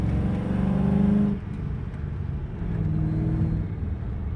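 A Ford Mustang on a fresh E85 tune revs hard and pulls away, a loud, close engine roar that climbs and then drops off abruptly before settling into a lower rumble.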